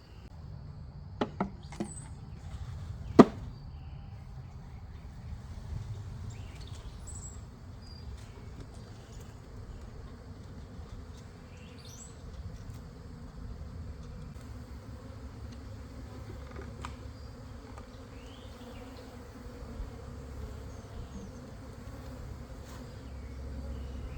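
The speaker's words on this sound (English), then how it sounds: "Now I'm going to dump the bees into the" A soft, steady buzzing of many honey bees being dumped into a hive hums throughout, with a few sharp knocks near the start.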